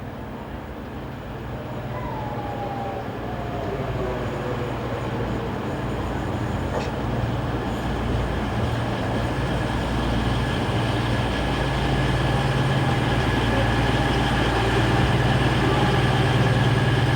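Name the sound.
passing train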